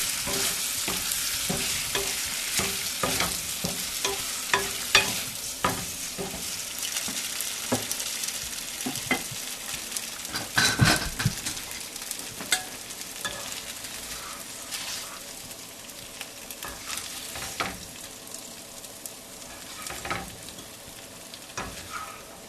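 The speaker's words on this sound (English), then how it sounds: "I think it's nice to just stir them around a little bit in the butter." Ukrainian varenyky (perogies) stirred around in a pan of butter, a steady close sizzle of frying with repeated scraping and clacking stir strokes throughout, no talking.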